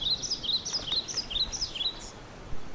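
A small bird chirps in an animated children's story, with quick, high tweets repeating in a busy run over faint background noise.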